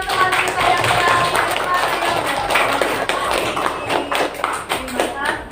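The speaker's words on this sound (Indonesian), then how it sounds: "Tepuk tangan buat teman kita yang baru." Classroom of young students clapping to welcome a new classmate back to school; loud, close, uneven group clapping with scattered taps and thumps, fading toward the end, with children's voices mixed in.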